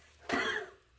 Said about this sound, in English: Okay, again, cough.